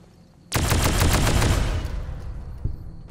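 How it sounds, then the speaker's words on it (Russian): A young fire gecko explodes in the video game Fallout: New Vegas: one sudden, loud blast bursts in with a crackling rumble that fades over about a second and a half, followed by a small late thump. "О, молодой огненный геккон немножко взорвался."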